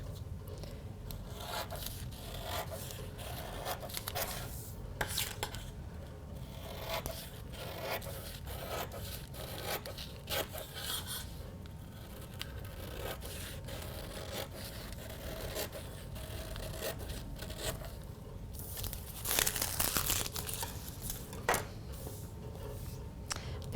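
Paper for a jeans pocket pattern is cut out, with quiet scraping, rustling and snipping sounds running unevenly throughout, soft and close, with no talk.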